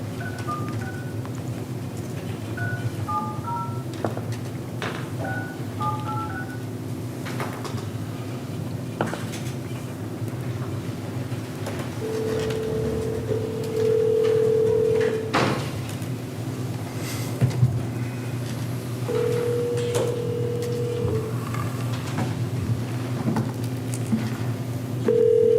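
A telephone being dialed into a city commission meeting, with short touch-tone beeps followed by steady dial or ring tones over a low room hum, fairly quiet and with no talking.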